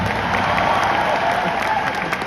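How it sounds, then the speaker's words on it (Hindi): An audience at a Delhi success-day event claps in steady, dense applause that stays loud and close throughout, with faint crowd murmur underneath. "उस पर्सन के लिए भी एक बार ताली बजा दो यार"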